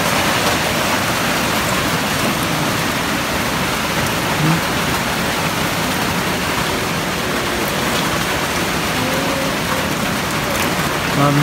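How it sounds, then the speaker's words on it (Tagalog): Heavy rain pours in a dense, constant roar, close and loud throughout, with faint voices buried beneath it. "napakalakas ulan"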